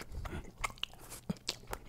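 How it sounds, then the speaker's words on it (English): Someone bites and chews a mouthful of kimchi ramen, giving soft wet crunches and a few sharper bites spaced irregularly, close and quiet with no talking. "Let's try some of this kimchi ramen right there."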